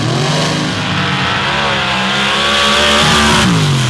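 Modified-class drag race car launching at an MRA finals event, a loud roaring engine blast that holds steady and climbs slightly in pitch as it accelerates, close and dominant.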